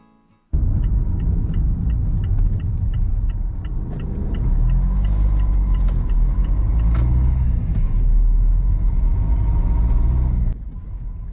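A car drives steadily down Beanford Lane in Oxton, its engine and tyre rumble loud and close throughout, starting abruptly after a brief quiet moment and easing slightly near the end.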